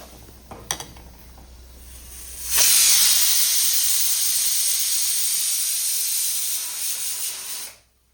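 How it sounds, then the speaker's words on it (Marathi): A pressure cooker on a home kitchen stove releases a loud, steady hiss of steam that lasts about five seconds before cutting off abruptly, with a few faint clicks just before it. "कुकर लावून घेतलाय"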